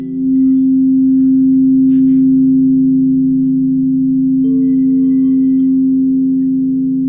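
A crystal singing bowl rings with a pure, steady sustained tone, loud and close, with a second pitch joining partway through.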